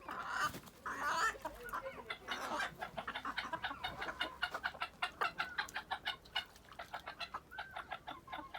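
Backyard flock of chickens, including bantam and ispenç birds, let outside, with busy close clucking and chattering calls in rapid uneven bursts, a few louder squawks near the start.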